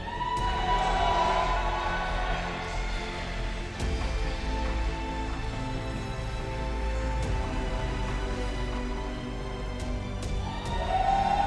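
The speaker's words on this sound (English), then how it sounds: "a big round of applause to our 3 players" An audience at a StarCraft II esports finals event applauds and cheers, a sustained roar of clapping and voices in a large hall that holds steady throughout and swells again near the end.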